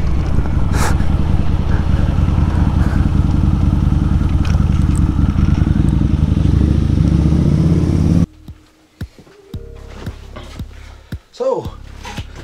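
A 2021 Harley-Davidson motorcycle engine runs loud and close with a steady, rumbling idle and a few revs before cutting off abruptly, followed by quiet handling noises.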